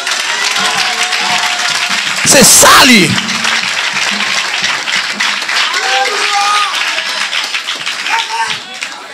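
A church congregation applauds during a sermon, a short loud burst of clapping rising over a preacher's amplified speech, which continues before and after.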